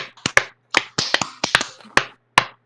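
A handful of sparse, sharp claps from a few people on a podcast, spaced irregularly with short silences between, close and dry.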